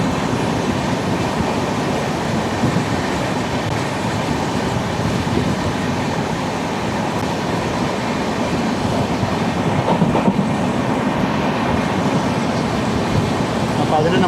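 Netravati Express train rolling on rails near Shoranur, Kerala, heard from onboard as a steady, loud rumble with continuous wheel and track noise and faint clickety-clack throughout, no pauses.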